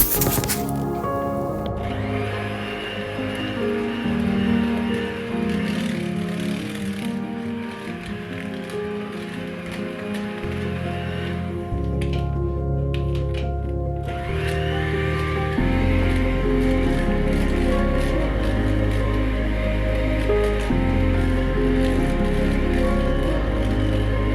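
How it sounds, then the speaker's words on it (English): Butter and sugar for a lemon cake beaten in an electric mixer give a loud, continuous whirring drone close by. The motor pitch steps and shifts as the mix thickens, and no one speaks. "Now I am adding 350 grams of sugar and mix that up too."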